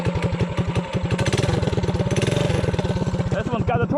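A 212 minibike engine with a torque converter runs close by with a loud, rapid, steady chugging beat that rises slightly in pace toward the end.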